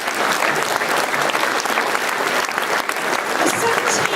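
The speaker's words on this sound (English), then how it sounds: "Round of applause." Steady applause fills a hall at a charity awards ceremony as a finalist is announced, dense clapping from a large audience holding at an even level throughout.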